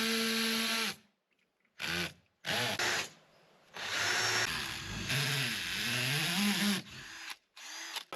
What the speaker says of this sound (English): I need a more powerful drill.